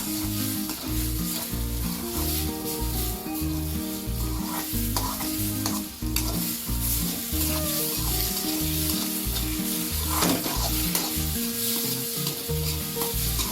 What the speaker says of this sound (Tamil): அந்த மாதிரி நம்ம ஃப்ரை பண்ணி எடுத்துக்கணும்.